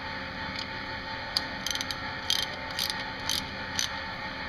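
A ratchet wrench tightening a nut onto a tine stud of a Barber surf rake, giving a series of short metallic clicks in small irregular clusters against a steady background hum.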